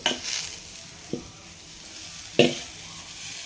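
Onion and ponnanganni spinach sauté in a pan, a soft continuous sizzle broken by three clear stirring scrapes near the start, middle and end, with no talk.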